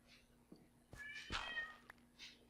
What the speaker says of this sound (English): Shut up, you ridiculous cat.